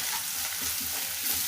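Ginger garlic paste fries in a pan for a prawn curry, making a dense, steady, close sizzle that carries on without break for a moment, with no voices.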